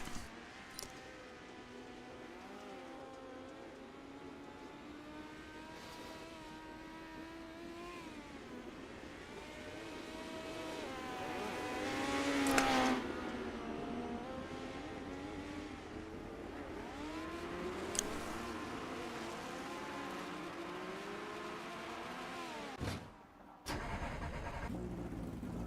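Race car engines at Lernerville Speedway in the iRacing simulator drone steadily and climb in pitch as the car accelerates, peak, then ease off before a brief drop, loud and continuous with no talk.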